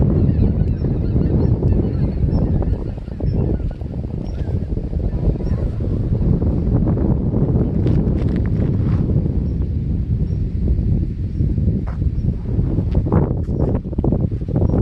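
A flock of migratory birds honks in goose-like calls on the windy west-sea coast of Ganghwa Island. The calls come steadily but distantly and are partly buried under strong, continuous wind rumble on the microphone.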